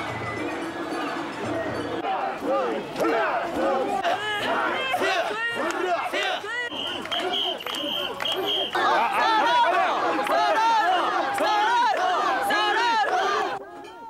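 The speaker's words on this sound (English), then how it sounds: "a rhythmic chant keeps the mikoshi bearers from thinking of their heavy load" Mikoshi bearers at a Japanese matsuri chant in a steady rhythmic call-and-response while hoisting their heavy portable shrine, a dense crowd of voices shouting close by with little pause throughout.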